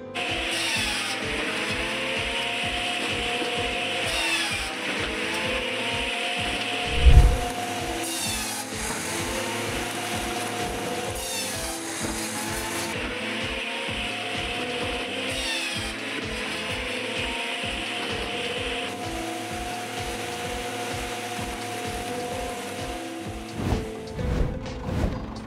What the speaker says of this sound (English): This machine has the feature of splitting wood into 18 pieces with less power and higher speed.